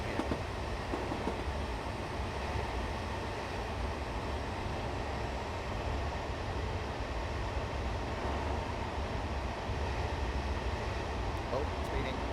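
A train runs steadily in Train Simulator Classic on the Plymouth to Penzance line, a continuous loud rumbling drone with rail noise that holds for the whole stretch without breaks.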